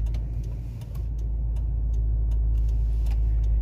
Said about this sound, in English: you can hear a little bit of the rumble right now